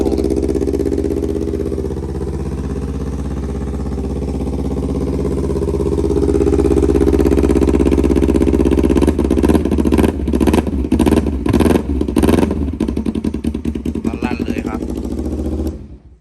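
Kawasaki Ninja 250 (300-style body, 2013) with a loud aftermarket SC exhaust, idling steadily with a deep low rumble for several seconds, then revved in a series of sharp throttle blips that crackle near the end.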